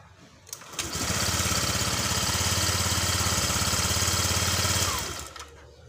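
A Honda Click 125i V2 scooter engine starts after about a second and settles into a steady, close, loud idle for several seconds, then cuts off, with a faint rattling buzz throughout.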